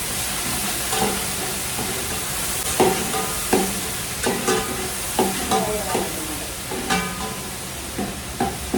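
Coriander and mint leaves fry in hot oil for chicken dum biryani, giving a steady close sizzle with repeated sharp stirring scrapes and clinks of a spoon against the pan.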